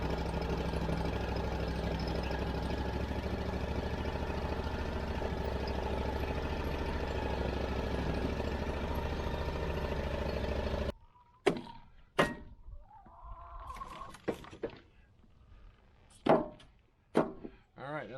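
A tractor engine runs on a farm in freezing winter weather, a steady loud drone that cuts off abruptly partway through, followed by scattered knocks and clatter.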